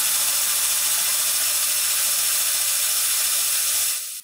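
A magnetic transmission with magnets in the ring gear runs under heavy torque load against a brake, giving a loud, steady whirring mechanical drone that holds constant before cutting off at the end.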